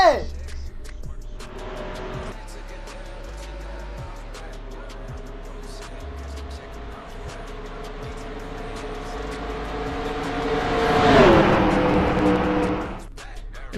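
Race cars in NASCAR Racing 2003 at a Daytona race start, a steady droning engine roar from the pack that swells to a loud revving peak near the end, with a commentator talking over it.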